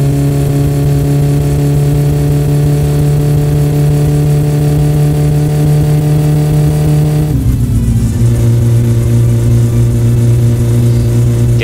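A carbureted car engine in My Summer Car runs slightly rich, holding a loud, steady rumble before dropping briefly in pitch and settling back into an even run.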